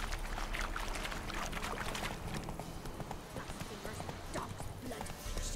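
Roach the horse moves along in The Witcher 3, her hooves clip-clopping in a busy, close rhythm mixed with splashy, watery scuffs and a steady low rumble.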